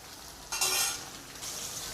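Chopped onion and crushed curry leaves sautéing in a pan, a quiet soft sizzle that rises in two brief bursts as they are stirred, close and without speech.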